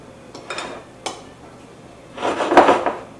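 Flour and salt being mixed together in a bowl for strawberry shortcake, a few soft scraping and clinking strokes of a utensil against the bowl, close and fairly quiet.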